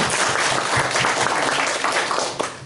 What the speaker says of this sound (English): Let's give all our candidates a big round of applause.